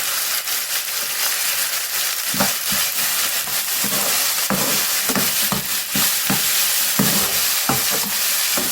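Peas and boiled peanuts sauté in a pan for leftover idli upma, a steady bright sizzle with repeated spoon scrapes and knocks against the pan, close and loud throughout.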